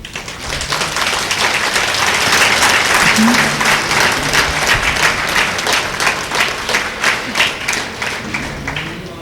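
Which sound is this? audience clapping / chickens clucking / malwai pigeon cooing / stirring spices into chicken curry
audience clapping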